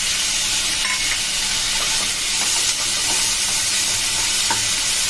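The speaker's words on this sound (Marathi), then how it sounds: "मी ते पण 1-8 मिनिटभर हलवून घेते." Two medium tomatoes fry in oil in a pan while being stirred, a loud continuous hiss and sizzle with occasional scraping clicks of the spoon, close up and alone.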